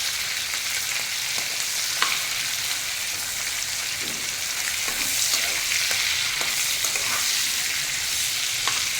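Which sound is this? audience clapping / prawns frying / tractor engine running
prawns frying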